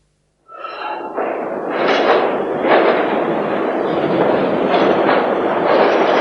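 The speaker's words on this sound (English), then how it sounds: "It's an underground train service that carries no passengers, and its trains don't even have drivers." A driverless underground train under London, running with no passengers, rises out of silence into a sustained close rumble, with a few sharper rattling bursts over the steady roar of the wheels.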